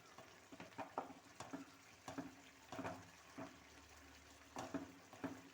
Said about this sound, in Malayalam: ഇതങ്ങോട്ട് നല്ലതുപോലെ ഇളക്കി കൊടുക്കാം